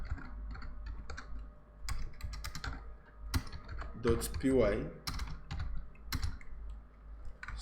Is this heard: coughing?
no